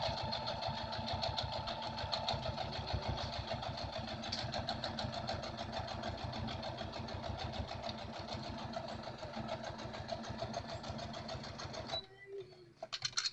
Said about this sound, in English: And then we're going to just stitch all the way around with the top stitch.